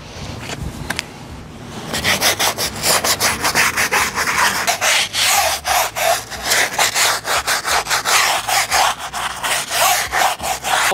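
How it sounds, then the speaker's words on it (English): A soapy scrub brush scours TUXMAT rubber floor mats for a 2022 Ford Bronco Raptor, with dense, rapid back-and-forth rasping strokes that grow loud and rhythmic after a few quieter opening scrapes. "A little bit of Dawn, a little scrub brush."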